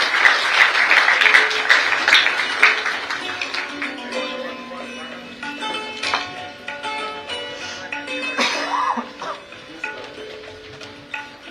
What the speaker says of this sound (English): a warm round of applause from the audience for these teachers and the students